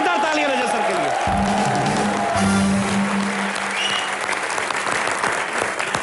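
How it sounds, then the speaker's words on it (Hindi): A studio audience at a comedy show breaks into loud, sustained applause that fills the room, with a few other sounds mixed in under the clapping. "एक बार जोरदार तालियां रजत सर के लिए।"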